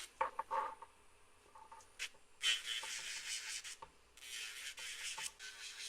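A sanding band files coffin-shaped acrylic nails in short bursts of close, hissing rubbing and scratching. Brief strokes come first, then two longer sustained passes, with pauses in between.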